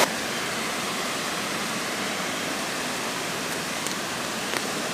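A mountain stream in the Queyras rushes in a steady, dense wash of flowing water, loud and close, unbroken throughout with no voices.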